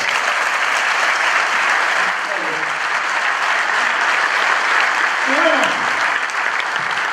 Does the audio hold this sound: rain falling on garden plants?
no